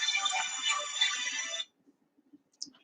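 A phone ringtone for an incoming call plays loud and steady for about a second and a half, then cuts off, leaving near-silence with a few faint soft knocks.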